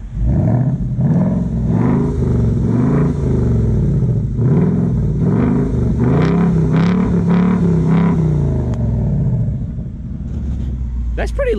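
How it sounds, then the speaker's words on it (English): A loud V8 engine of a 2019 Mustang GT PP1 with stock exhaust revs repeatedly in sharp bursts over a deep rumbling idle, close by, with a few voices faintly underneath. "Pretty loud for stock exhaust."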